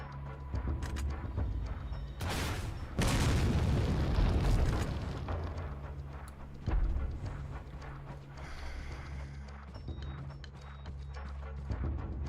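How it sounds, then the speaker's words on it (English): Rocket launcher blasts in Resident Evil 4 on Professional mode: a sharp burst near 2.5 seconds, then a long heavy roaring explosion from about 3 to 5 seconds, a smaller thump near 6.7 seconds, over steady game ambience. "How many rocket launcher shots is this going to take?"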